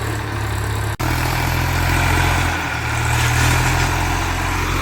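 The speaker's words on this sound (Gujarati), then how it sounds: "જો ખેતરમાં ટ્રેક્ટર આવી ગયું." A tractor arrives in a farm field for ploughing and sowing, its engine giving a steady, continuous rumbling drone at close range with a brief dip near the start.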